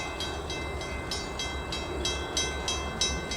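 A Milwaukee West commuter train pulls into a station near Chicago, its wheels clicking in a steady, evenly spaced rhythm over a low continuous rumble, fairly close and without voices.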